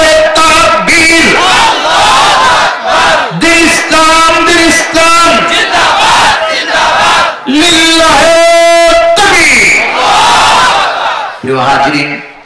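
A large crowd at an outdoor Islamic waz gathering roars a chant in unison in repeated loud bursts, each a few seconds long with short pauses between them, right after a leader's call.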